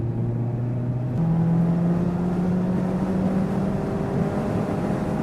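A Mazda ND3 Miata engine drones steadily at close range while lapping a race track, its tone stepping up once early on and then holding an even, loud pull with road and wind roar beneath.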